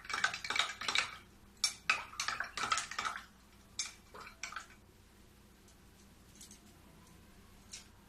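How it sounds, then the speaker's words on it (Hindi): A spoon clinks against a glass while stirring powder into half a glass of milk, with a quick run of bright taps and scrapes that slows and thins out, then near silence with a faint last tap. "इसको अच्छे से मिला दूंगी।"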